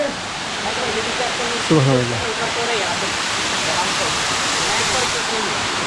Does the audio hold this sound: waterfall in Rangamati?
yes